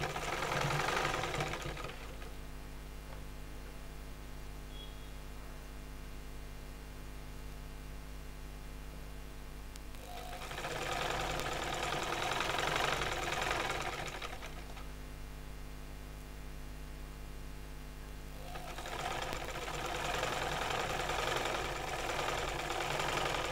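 A sewing machine stitches elastic on a salwar in three sustained bursts of steady, fast whirring hum, separated by quieter pauses with a low background drone, close and even in loudness.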